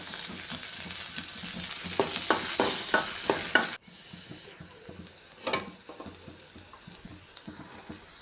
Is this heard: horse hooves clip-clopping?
no